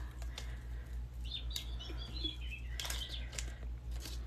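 Recorded birdsong plays from a speaker at low volume, scattered chirps and tweets over a steady low hum.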